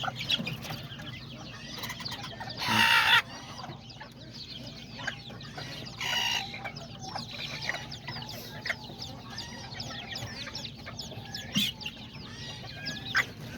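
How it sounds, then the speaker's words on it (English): Hens and roosters cluck and call in a farmyard, with scattered close clucks and a couple of louder squawking bursts, plus some wing flapping, over a low background hum. "Oh, there's the mom chicken."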